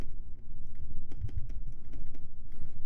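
Computer keyboard typed on in rapid, irregular clicking bursts, close and clear, with no speech over it.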